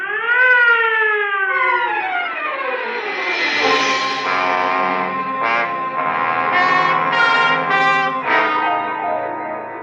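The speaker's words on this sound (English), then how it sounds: "Clear the way for the ambulance." An ambulance siren wails in a vintage radio drama, starting with a rising, bending tone that breaks into repeated rising and falling sweeps, loud and steady for about ten seconds with no talking.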